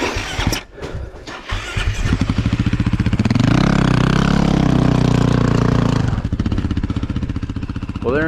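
Vehicle engine revving hard as it tries to climb out of snow on a winter mountain trail, loud and close, rising to a sustained high-revving drone before easing off.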